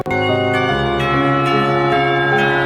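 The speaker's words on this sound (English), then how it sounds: "The ringing of the bell snaps us both back to reality" A school bell from the visual novel Katawa Shoujo rings loudly and continuously, with rich sustained metallic tones and rhythmic strikes repeating about every half second, alone with no voices.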